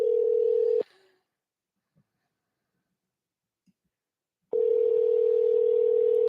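Phone call tone: a steady, loud ring tone plays alone for under a second, cuts to near silence with a couple of faint clicks, then returns and holds for the last two seconds.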